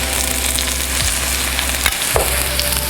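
Hot pepper hitting a pot for a sweet potato and red lentil curry, a loud continuous close sizzle with crackles, a low steady hum beneath and a couple of brief knocks from the pot, no talking.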